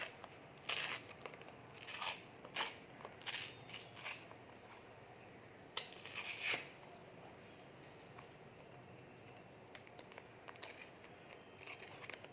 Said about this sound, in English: You have to tear the paper with your hands.